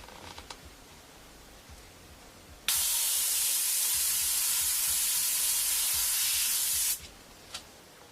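Steady airbrush hiss of paint spraying in one unbroken burst of about four seconds, loud and close, standing out against a quiet room with only faint handling noise before and after.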